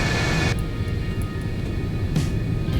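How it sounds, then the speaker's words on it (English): A steady jet engine roar from an F-4 Phantom taxiing in the X-Plane 12 flight simulator, a constant broadband whine and rumble with a brief change in tone partway through. "the other F4 has started his taxi out, so we're going to taxi out with him"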